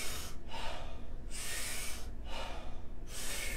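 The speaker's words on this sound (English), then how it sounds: "So big, powerful breath in, soft exhale." Three strong, deep breaths drawn in through the mouth during a yoga breathing exercise, each a loud rushing inhale of about a second, followed by a soft relaxed exhale, close and with no talking.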